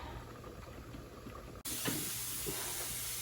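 Quiet room tone gives way abruptly to a steady, loud hiss of steam escaping a pressure canner that continues to the end.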